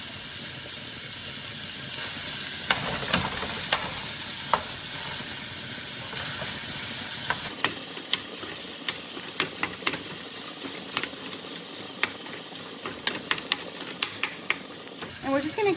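Chorizo sausage and chopped onions sizzle and fry in a pot in its own oil, a steady close hiss with scattered sharp pops and crackles and occasional stirring scrapes.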